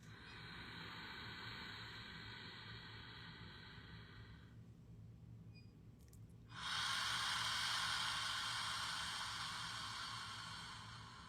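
A long breathy Ujjayi ocean breath: a soft hissing inhale, a short pause, then a louder, rushing exhaled ha sound, close and alone over several seconds.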